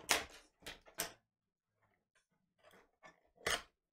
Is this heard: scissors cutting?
yes